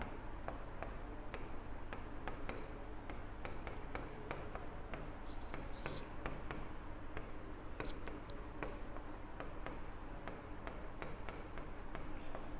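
Notes being written on a board come through as faint, quick taps and short scratchy strokes in a steady rhythm, set far back under a constant hiss of room noise.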